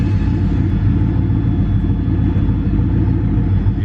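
A Turbo Regal's engine rumbles deep and loud from inside the car, a steady low grunt that holds without pause, with no voices over it.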